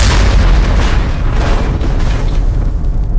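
A barbershop explosion, AI-generated, gives a loud, sustained rumbling boom with crackling debris that fades slightly near the end.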